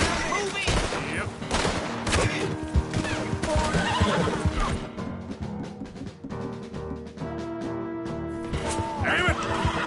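A horse in Red Dead Redemption 2 gives a loud whinny amid clattering hooves and bursts of gunfire in a chaotic game scene.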